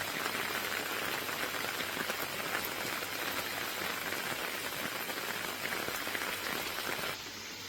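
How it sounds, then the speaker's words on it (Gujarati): Rain pours at Girnar near Damodar Kund in Junagadh, a dense, even hiss of falling water that holds steady for several seconds, then thins and softens toward the end. "ગિરનારમાં વરસાદ વરસતા કુંડમાં નવા નીર આવ્યા છે"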